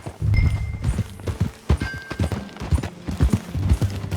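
Hooves clip-clop in a quick, uneven rhythm close by in Red Dead Redemption 2, with a few brief tonal game sounds layered over the steps.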